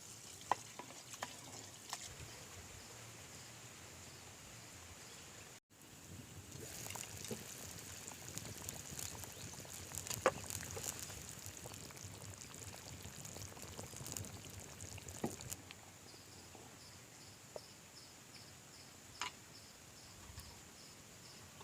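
Water poured into a cooking pot for goat leg soup, a soft, steady splashing and trickling that runs quietly throughout, broken by a brief silent gap early on.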